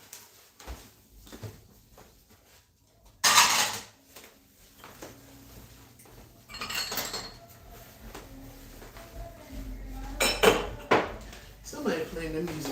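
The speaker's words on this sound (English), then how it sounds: "So, I want to put away my dishes" Kitchen dishes being put away at home, with scattered clinks and clatters of plates, pots and utensils over about twelve seconds, some louder knocks among quieter handling, under a faint background of distant music or voices.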